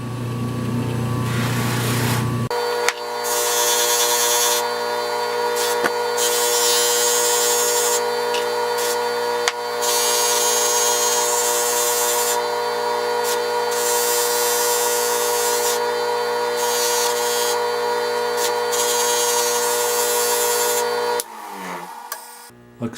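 A router spinning at high speed while cutting an acrylic tube, a steady loud whine with strong tonal harmonics lasting about twenty seconds, briefly cut off early on and winding down at the end.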